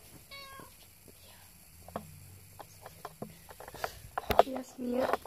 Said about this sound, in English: this is our cat, Mia.